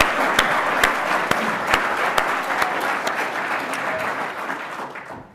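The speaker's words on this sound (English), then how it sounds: "Can I just have a round of applause for the guys that have organised this?" A conference audience applauds the organisers with dense, steady clapping and a few sharp louder claps standing out, sustained for several seconds and tapering at the end, with no voices over it.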